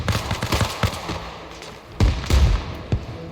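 Grenade blasts in the ARMA Reforger military game, a rapid string of sharp, loud detonations clustered together, with the heaviest booms bunching near the end.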